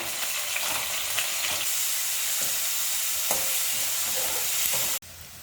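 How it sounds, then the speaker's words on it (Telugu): Mustard seeds, cumin, green chilies and onions frying in oil in a pan, a steady loud sizzle with occasional pops and stirring scrapes, cutting off abruptly near the end. "ఆవాలు, జీలకర్ర వేసుకున్నాం కదండి, కొంచెం ఫ్రై అవ్వాలి ఇవి"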